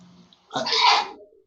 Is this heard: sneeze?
yes